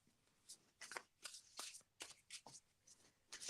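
A deck of cards is shuffled close by, a quick series of soft riffling, slapping bursts, about a dozen in uneven rhythm, quiet and alone.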